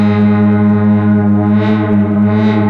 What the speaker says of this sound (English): You can hear that the LFO is moving up and down, but it's because it's per voice.